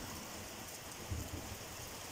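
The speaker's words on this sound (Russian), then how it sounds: "Дождик прям такой нехилый." Heavy rain falls outdoors at a country house, a dense, even hiss of steady downpour with a faint low rumble rising briefly in the middle, no voices.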